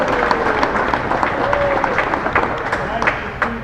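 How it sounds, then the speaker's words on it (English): A crowd at an outdoor bass fishing tournament gathering at Laurel River Lake gives a steady round of applause for Maggie, sustained clapping with a murmur of voices mixed in. "let's give Maggie a big round of applause"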